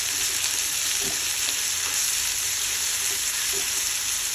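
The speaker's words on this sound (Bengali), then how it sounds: "এখানে আমার পেঁয়াজ ভাজা হয়ে গেছে। তো এখন আমি 1 চা চামচের মতো আদা বাটা" Ginger paste and fried onions sizzle in a pan, a steady, even hiss of hot oil running throughout with a few faint clinks and scrapes, and no voices.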